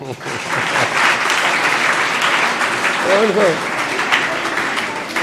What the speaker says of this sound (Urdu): ان کے لیے بھی تالیاں